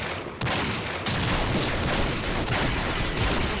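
Dense, sustained gunfire from the online shooter Combat Arms in Arms Race mode, a loud continuous barrage of rapid shots with no pauses, rising in intensity after a brief quieter start.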